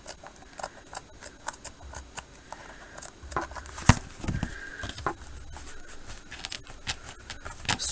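Scissors trim a paper craft tag in a series of short, crisp snips scattered unevenly across the moment, close but fairly quiet, with faint handling rustle between cuts and no talking.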